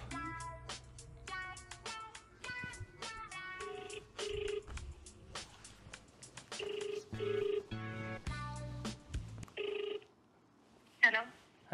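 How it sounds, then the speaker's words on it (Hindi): A phone rings while a call is being placed: a repeating ringback tone in regular pulses, with brief dialing-like beeps and a voice chiming in near the end. "अपूर्वा को कॉल करने वाले हैं"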